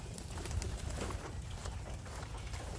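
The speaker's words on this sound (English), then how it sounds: "That's my favorite bird right there." Young pigeons coo softly, low murmuring coos drifting over a steady, faint outdoor background with no talking.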